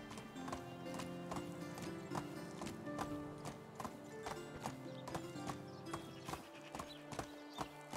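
Steady clip-clop of a donkey's hooves as it is ridden in the medieval survival game Medieval Dynasty, a regular rhythmic trot with sharp hoof strikes over a continuous ambient background, no talking.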